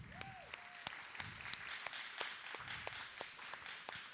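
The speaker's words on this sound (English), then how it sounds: "Round of applause." A crowd at a live cooking demonstration applauds an assistant, with dense, even clapping and a handful of crisp individual claps cutting through. A brief tonal whine sounds near the start.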